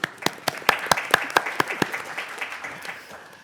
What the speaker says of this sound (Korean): 우리나라 디지털 치료제가 임상에서나 다른 산업화에 더 빨리 접근할 수 있도록 우리 박수 한번 주시죠